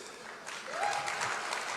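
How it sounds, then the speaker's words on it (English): Audience applause for a minister at the IT Serve Synergy Summit, a steady wash of clapping that swells after the first half second and holds fairly loud to the end. "Please give a round of applause to our minister."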